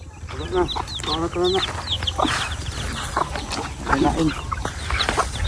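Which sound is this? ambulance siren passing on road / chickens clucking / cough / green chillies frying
chickens clucking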